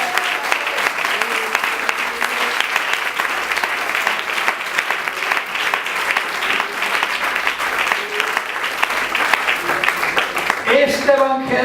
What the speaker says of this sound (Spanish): Dale aplausos a la presencia del Señor.